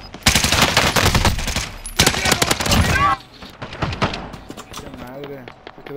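Gunfire in a video game, played on an island map: rapid bursts of automatic shots, loud and close, come in clusters over the first three seconds, then thinner scattered shots follow amid game sounds.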